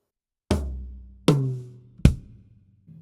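A drum kit plays a linear three-note grouping, three separate strikes about three-quarters of a second apart, the first deep and booming, the others sharper, each decaying before the next, close and alone.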